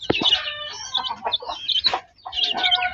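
A second batch of newly hatched chicks chirps close by at feeding time, giving a busy overlapping run of high, piping peeps with a brief lull before they start again.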